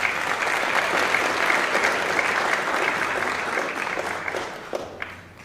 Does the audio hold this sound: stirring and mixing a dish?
no